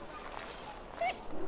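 A wounded mabari war dog in the video game Dragon Age: Origins lets out soft, high whimpers and a short whine, close and plaintive over a faint ambient background.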